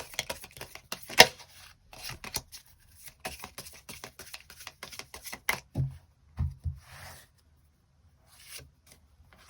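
Tarot cards riffled and shuffled up close in quick dry flutters, then a few soft slaps and slides as cards are drawn and laid down, ending in near silence.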